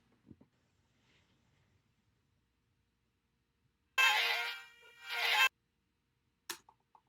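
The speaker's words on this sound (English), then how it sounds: "just this little vocal chop, and it sounds like this" A short vocal chop sample from a synth beat, shaped with a narrow bandpass EQ and delay, sounds as one bright, thin burst of about a second and a half, followed later by a brief echoing blip, with near silence around it.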